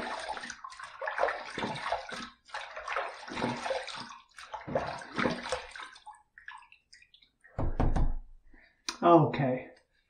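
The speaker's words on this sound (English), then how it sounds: "let's rinse" Face rinsed with water after shave soap, heard as close splashing and sloshing in short bursts with a knock near the end, coming after a stretch where someone talks.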